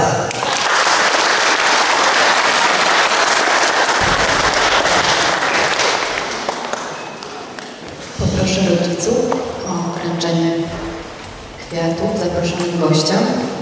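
Loud, sustained applause from a school crowd at a first-year pupils' pledge ceremony, dense clapping that thins out midway before a voice begins speaking over the scattered claps.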